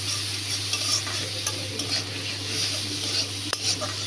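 Prawns fry with onion in a steady low sizzle while a utensil stirs and scrapes the pan, with occasional soft clinks.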